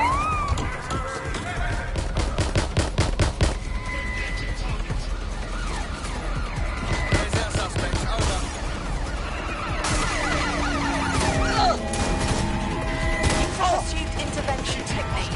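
Rapid gunfire from Albion forces in a PS4 video game, with bursts of shots, crashes and impacts filling a busy combat soundscape, loud and continuous throughout with short gaps.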